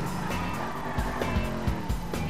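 A small supercar drives past nearby with a loud engine roar and brief tire noise, heading toward an airport for drag racing. The sound is short and continuous, and no one talks.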